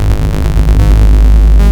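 Dense, throbbing electronic tones from a modular synthesizer swirl and wobble with constant modulation from a Make Noise Multimod, a loud, thick synthetic texture with no pauses.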